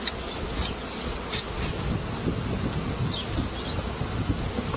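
Honey bees swarm over a hive frame being shaken and brushed clear, filling the air with an unbroken, loud, close-up drone that holds steady throughout.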